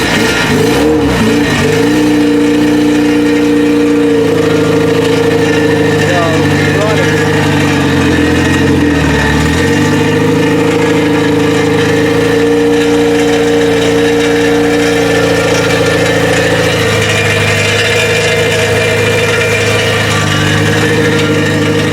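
A Honda K20 engine swapped into an EK hatchback runs loud and close, holding a steady idle with a few rev blips and dips, while people talk nearby.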